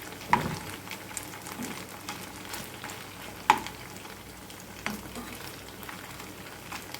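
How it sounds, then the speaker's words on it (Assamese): Restaurant-style chicken pieces fry in a pan with a soft, continuous sizzle, close and fairly quiet, broken by a few sharp clinks of a utensil. "আৰু আকৌ মই 3-4 মিনিটমান ফ্ৰাই কৰি ল'ম"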